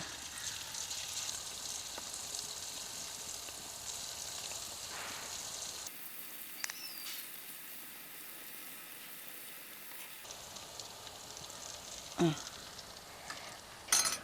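Boondi batter sizzles in hot oil for Kerala-style mixture, a steady, moderate frying hiss with a few faint clinks and stirring sounds near the end.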